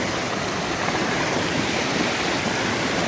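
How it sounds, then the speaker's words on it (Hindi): A waterfall pours down from above through dense forest on a trek to Budha Kedar temple, giving a steady, loud, unbroken rush of falling water with no talk. "ये झरना ऊपर से बहता हुआ आ रहा है।"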